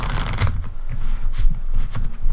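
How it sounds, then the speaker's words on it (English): A deck of unsleeved playing cards is shuffled by hand, giving quick close riffling flutters in short bursts. "I'm the master of shuffling without sleeves."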